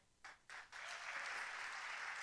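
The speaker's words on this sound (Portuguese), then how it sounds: "uma salva de palmas para ele." Applause from a church congregation starts with a couple of scattered claps, then swells into steady, fairly faint clapping that continues to the end.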